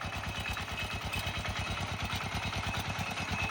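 An 11-horsepower walk-behind farm tractor engine runs steadily in the open, giving a fast, even chugging beat with a metallic clatter. It sounds close and fairly loud, with no voices over it.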